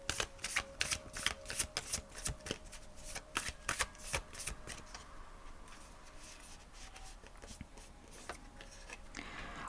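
Tarot cards being shuffled by hand, a rapid run of crisp riffling snaps for about five seconds, then softer, sparser card rustles and taps that continue quietly to the end.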